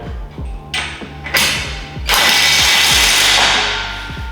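A bolt is driven in with a power tool while an incline squat rack is assembled, a loud close buzzing whir with rapid ratcheting clicks that builds into a sustained grinding run.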